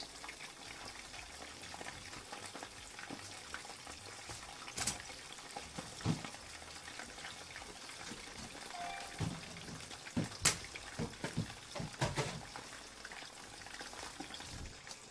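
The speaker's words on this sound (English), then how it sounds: "This is not quite as vigorous a reaction as I would like from the frying" Food sizzles steadily in a pan, a continuous soft crackle with occasional sharper pops and spits, fairly quiet and close.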